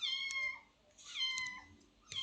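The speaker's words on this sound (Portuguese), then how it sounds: "E minha gata está miando." A house cat meows softly twice, spaced about a second apart, with a third cry starting at the end. The meows are faint and close against a quiet indoor background.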